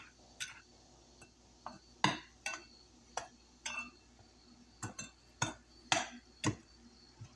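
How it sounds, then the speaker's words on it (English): Dry ingredients with Hershey's cocoa being mixed in a bowl with a utensil, about a dozen sharp scraping clinks at an irregular stirring rhythm, close and moderately loud, with no talk. "Mix that together very well."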